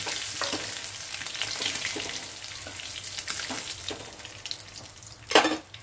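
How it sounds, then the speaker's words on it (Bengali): Prawns frying in hot oil in a kitchen pan give a steady close sizzle and crackle with no talk, and a brief louder burst of spattering comes near the end. "তেলটা গরম হয়ে গেছে, চিংড়ি মাছটা আগে ভেজে নেব"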